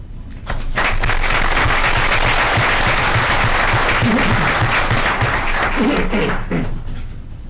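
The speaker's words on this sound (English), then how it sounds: "So let's give them another round of applause." Audience applause fills a board of education meeting, a dense, loud wash of clapping that starts abruptly and holds steady for several seconds before tapering, with faint voices murmuring underneath.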